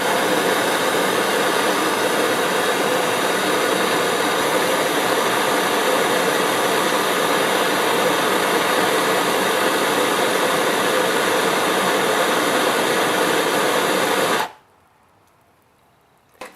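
A heat gun blows on heat shrink tubing over a battery cable terminal, giving a loud, steady rushing roar that holds for about fourteen seconds and then cuts off abruptly.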